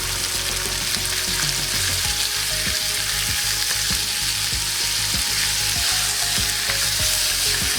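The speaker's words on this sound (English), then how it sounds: "We're gonna cook it to take the flavor from the ginger and the garlic" Pre-sliced inside round Angus beef sizzling in a frying pan with ginger and garlic for a beef stir-fry, a loud continuous crackling fry close by with faint rhythmic stirring taps throughout.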